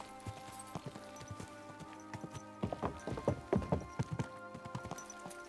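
Horse hooves clip-clop over ground in Kingdom Come: Deliverance 2, a steady run of close, distinct hoofbeats that grows louder and denser midway, with no talking.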